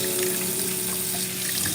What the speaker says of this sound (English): so of course we wash the onion off.